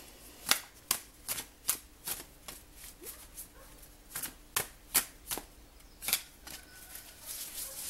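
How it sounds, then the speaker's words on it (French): Oracle cards printed on quality paper being shuffled by hand, a series of sharp, close riffling bursts in an irregular rhythm, about a dozen separate snaps and flutters over a quiet room. "je vous propose qu'on batte les cartes"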